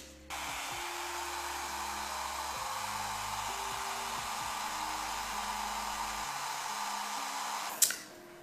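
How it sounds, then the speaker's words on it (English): A handheld blow dryer runs steadily while drying and styling a bleached, plucked side-swoop highlighted wig install, a loud continuous whooshing hum lasting several seconds that cuts off near the end with a brief click. "when I use my blow dryer"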